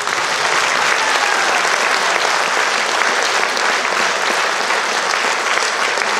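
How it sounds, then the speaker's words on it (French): Sustained applause from a theater audience thanking the Kiosque aux Chansons singers after a Christmas show, loud, dense and steady throughout with no break. "d'applaudir le kiosque aux chansons"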